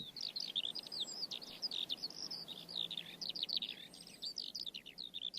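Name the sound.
bird song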